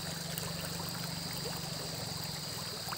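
Flowing stream water trickles and babbles steadily at a low, even level, a soft continuous wash with no other sounds over it.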